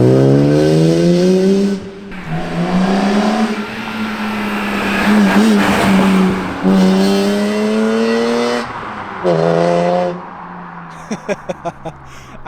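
A BMW E46 M3 drives with its exhaust droning and rasping, the engine note rising and falling through several revs and gear changes, loud and close, with a few short sharp pops near the end.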